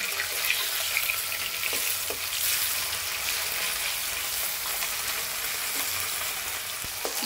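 Fish fries in a pan with a steady, loud, continuous hiss and crackle of hot oil that holds even throughout, broken only by a few faint clicks, with no talking.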